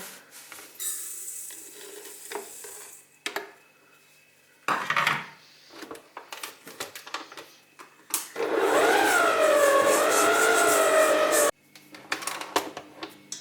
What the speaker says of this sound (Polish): Na początku ucieram masło 150 gramów z cukrem.